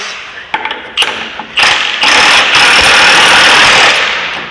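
A Polaris XCR 600 triple snowmobile engine starts after a few pull thumps, catching and settling into a loud, steady running roar close by, with no talk.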